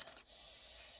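A short, bright hiss of a spray bottle misting cardstock, starting after a brief quiet moment and holding steady and close until the end.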